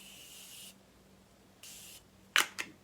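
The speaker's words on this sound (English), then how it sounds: "this is the Morphe Continuous Mist Spray" A Morphe Continuous Mist setting spray gives two long, soft, steady hissing bursts close by, followed by a couple of short clicks.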